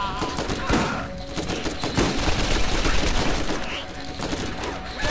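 Rapid weapon gunfire in the shooter game Borderlands, loud bursts of shots and impacts piling up over a busy game soundscape, with a voice speaking over the firing.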